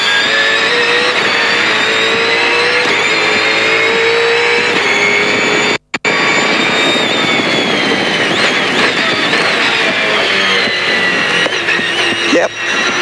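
A GRM Holden Commodore race car accelerates hard on track, its engine loud and close with a high revving roar, a brief cut near the middle and gear-change pitch shifts throughout.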